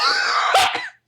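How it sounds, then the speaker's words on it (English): A single short cough that breaks into a small sneeze at the end, close and alone, lasting about a second. "It was a cough, and then it turned into a small sneeze."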